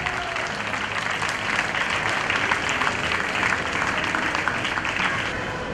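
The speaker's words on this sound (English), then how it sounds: "Please everyone, give her a big round of applause." Sustained applause from an audience at a school function stage event, dense and steady clapping at moderate loudness throughout, with no pauses.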